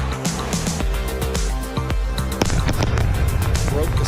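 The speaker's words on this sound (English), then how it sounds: "Just heard the two sonic booms here in the room." Two sharp, loud booming claps, sonic booms from a returning SpaceX Starship booster, ring out a couple of seconds apart over a rumbling background, with a crowd murmuring throughout.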